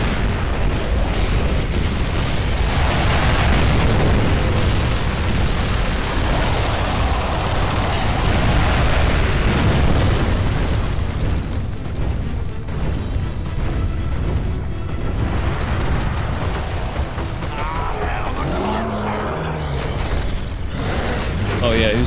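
Boomshot explosions in the video game Gears of War 2 pile into a loud, dense wall of booming blasts and rumbling debris that roars without a break for the full length, thinning slightly toward the end.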